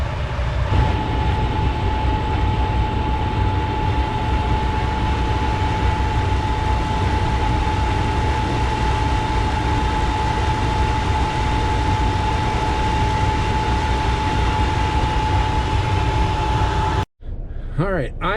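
A Metra commuter train bound for Aurora passes on the BNSF line during a heavy snowstorm, giving a loud, continuous rumble and rail noise with a steady tonal hum close by. The sound ends abruptly.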